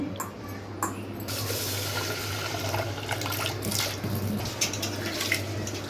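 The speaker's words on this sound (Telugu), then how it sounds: "గిన్నెలో బియ్యం వేసేసుకుని కడిగేసుకుందామండి" Steady splashing and swishing water in a bowl as rice is washed, continuous and close, with soft sloshes and trickles throughout.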